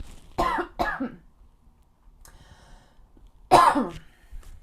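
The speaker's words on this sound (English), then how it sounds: "Excuse me, I need to cough." Two quick coughs close to the mic, a quiet pause, then a louder single cough and throat clearing.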